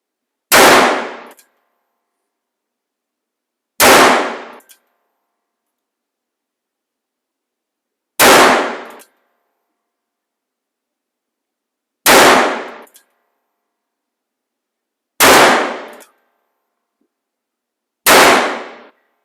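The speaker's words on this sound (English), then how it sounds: "you can hear the increased report on that one" Six loud gunshots from a Smith & Wesson K frame revolver, fired one at a time with pauses of about three to four seconds between them, each a sharp crack that rings off briefly, with no talking.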